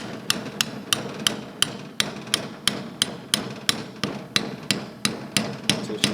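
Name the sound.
hammer tapping socket to seat valve seal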